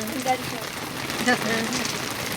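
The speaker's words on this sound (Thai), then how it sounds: "ฝนมาแล้วทุกคน ฝนมาจ้า" Rain beginning to fall outdoors during a stop to buy roti, a soft steady hiss of drops with people talking over it.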